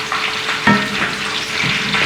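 Curry leaves dropped into hot oil as part of a tempering for a dry cauliflower and potato dish, giving a steady close sizzle and spatter that swells briefly as they hit the pan.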